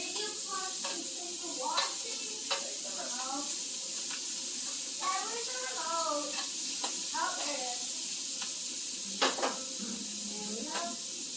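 Shrimp sizzling in a grill pan with spicy seasoning, a steady bright hiss of frying broken by scattered pops and scraping stirs, with a voice talking faintly in the background.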